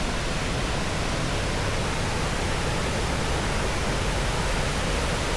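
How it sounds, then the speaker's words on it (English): A large waterfall in central Arkansas roars as a steady, loud, broadband rush of falling water, close and continuous throughout with no voices. "It's a pretty big waterfall, not gonna lie."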